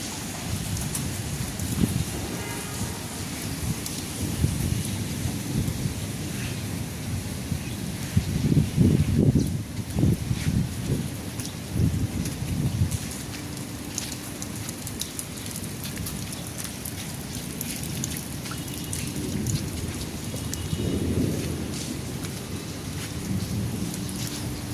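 Heavy rain pours over a rooftop garden in Bangladesh with a constant hiss of drops on surfaces, and deep thunder rolls swell and fade several times.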